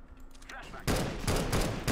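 Rapid gunfire bursts from a first-person shooter game start abruptly partway in and continue loud and dense, with bursts overlapping as people shout over them.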